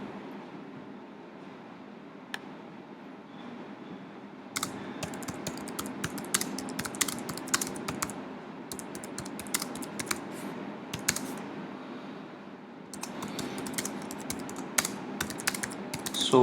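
Rapid clicking of a computer keyboard as text is typed, close and steady with bursts and short pauses over a quiet room hum, no voices.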